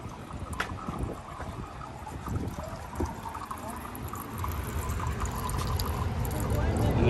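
Hot spring water pours steadily from a small 1895 stone fountain in Hot Springs, Arkansas, a continuous close splashing wash with some wind noise, and voices may be faintly present.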